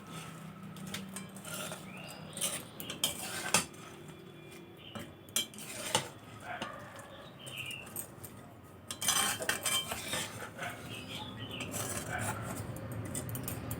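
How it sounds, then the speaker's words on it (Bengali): Cashews, raisins and almonds are mixed into sugar syrup for zarda pulao, with a metal spoon scraping and clinking against the pot in irregular strokes, some sharp knocks standing out. "খুব ভালো করে চিনি শিরার সাথে মিশিয়ে নেব"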